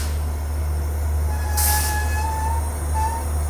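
Passenger train hauled by an EMD WDG4 diesel goods locomotive rolling steadily, a constant low rumble with faint metallic wheel squeal tones and a brief hiss burst midway.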